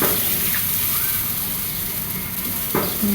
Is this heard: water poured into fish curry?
yes